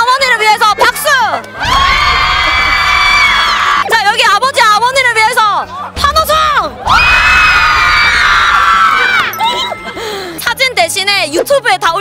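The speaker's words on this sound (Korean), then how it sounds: "자, 여기 아버지 어머니를 위해서 박수!" A packed crowd of young fans at a Super Junior event lets out two long waves of high-pitched screaming and cheering, loud and close, with shouting voices and brief quieter gaps in between.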